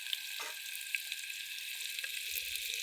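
Potatoes roasting in a pan sizzle with a steady bright hiss, broken by a few soft scrapes and knocks from stirring, close by and without voices.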